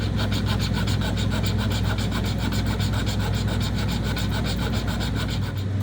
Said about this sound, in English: Now I can file it into shape with a jeweler's file.